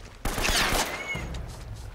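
A weapon fires in the Uncharted video game: one sharp, loud shot bursts out and rings into a long decaying reverberant tail, with faint game background sound around it.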